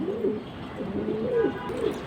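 Pigeons at a market pen coo in a soft, rolling series of low calls, several overlapping nearby over faint background noise, with no speech.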